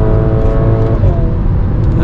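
A VW Fusca with a TSI engine making over 300 hp and a Magnaflow exhaust accelerates hard. The close, loud engine note climbs steadily over a constant road roar.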